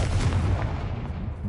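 A Confringo blasting spell explodes in Hogwarts Legacy, a short loud booming blast that decays over about a second and a half.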